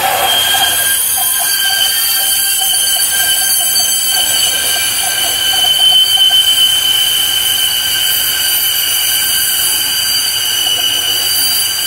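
A metal piece is cut to four inches for a rotisserie build, a steady loud grinding whine with bright sustained tones holding unbroken throughout, close and alone without talk.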